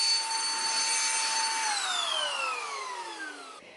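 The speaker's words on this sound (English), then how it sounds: "This little handheld hoover I got from Aldi is literally the best thing ever." A small handheld vacuum cleaner from Aldi runs close by with a steady high whine, then its pitch slides downward as the motor winds down and fades.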